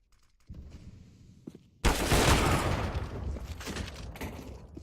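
Gunfire in the CSGO video game on the Cache map arrives as a sudden loud burst after a quieter stretch, then continues as a dense volley of rapid shots that gradually eases, with no talking over it.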